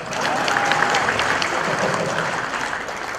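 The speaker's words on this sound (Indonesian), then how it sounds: "Tepuk tangan buat saya." An audience applauds steadily and loudly, a dense wash of clapping with no breaks, heard close and alone.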